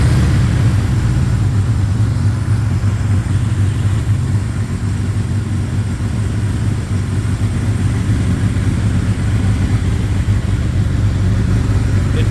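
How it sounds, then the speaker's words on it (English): A 1982 Suzuki GS 1100 motorcycle engine, warmed up with a small hole in its old exhaust pipe, runs with a loud, steady low rumble close by, holding an even idle for the full stretch without distinct rev spikes. "I have warmed it up because I'll do a few revs."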